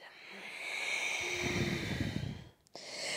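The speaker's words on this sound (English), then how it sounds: "inhale, breathe into the chest space. And exhale to round." Deep, audible breathing during a vinyasa yoga flow: one long, steady breath that fades near the end, followed by a short catch of air.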